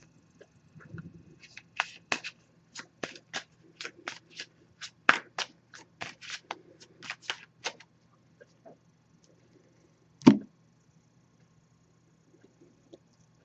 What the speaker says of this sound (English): I'm just going to give this a few shuffles, and then I'll cut the deck